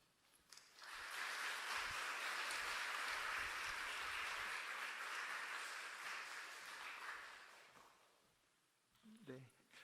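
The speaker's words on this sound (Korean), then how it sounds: "우리 나오실 때 박수로 한번 환영하도록 하죠" A church congregation gives welcoming applause for a missionary coming up to speak, a full, even roar of clapping that swells quickly, holds for several seconds, then fades before a voice returns.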